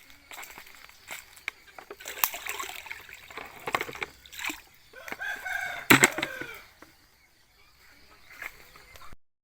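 Chickens on a morning farm where ducks are also kept, with a rooster crowing and hens clucking in scattered bursts, along with footsteps and a little splashing water nearby.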